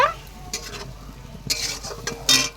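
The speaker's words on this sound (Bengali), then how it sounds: "এটাকে ভালো করে কষিয়ে নেব" A spatula scrapes and stirs a blended paste as it fries in a pan, with a soft sizzle under a few sharp metallic scrapes and clinks near the end. Nobody speaks.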